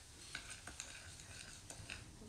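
A mixture that is reacting and turning blue gets stirred quickly, giving soft, faint scraping and swishing with a few light clinks of a utensil against the container, no talk.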